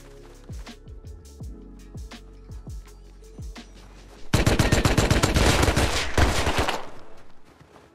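Rapid gunfire in a multiplayer shooter game: a string of sharp single shots, then a loud sustained burst of automatic fire lasting several seconds before tapering off, with no talk over it.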